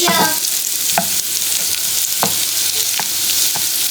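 Potatoes fry with cumin seeds in a pan, a loud, close, continuous sizzle broken by a few spoon scrapes and taps as the food is stirred, with no talking.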